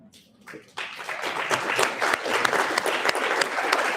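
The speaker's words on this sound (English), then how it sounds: "I don't know why you're clapping, you haven't heard anything about it yet." An audience at a church-style announcement breaks into applause. The clapping starts sparse, then quickly swells into steady, full clapping that holds to the end.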